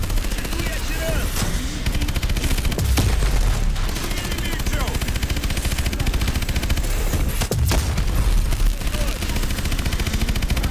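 Rapid automatic gunfire and heavy blasts in the Call of Duty Advanced Warfare finale on PS4, loud and dense with bursts stacking over each other and a rumbling low end throughout.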